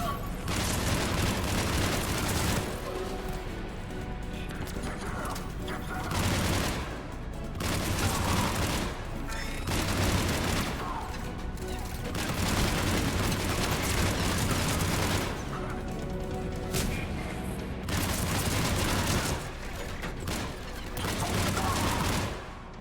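Sustained assault rifle fire in Mass Effect 3 combat against Cerberus soldiers, with loud bursts of shots and booms in repeated waves separated by short, quieter gaps.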